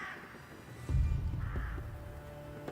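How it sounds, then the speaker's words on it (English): Crows caw in Thronebreaker: The Witcher Tales, harsh calls over a dull rumbling ambience in a rotting battlefield scene, the calls fairly distinct and unaccompanied by speech. "Flies swarmed in thick clouds, and crows cawed in a deafening cacophony."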